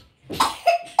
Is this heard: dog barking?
no